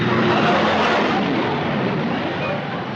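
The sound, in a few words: large airliner flying overhead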